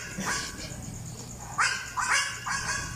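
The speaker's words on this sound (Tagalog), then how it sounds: "Ibang, ibang kambing to. Tumatahol." Several short, harsh bark-like calls from a goat in quick succession, fairly close, sounding much like a dog barking over a steady outdoor background.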